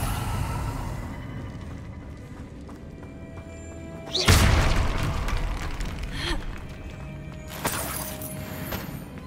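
A Confringo blasting spell explodes in the Hogwarts Legacy video game: a loud boom bursts out midway, followed by a smaller crack later, over quiet ambient game sound.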